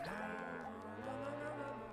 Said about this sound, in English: M goes moo.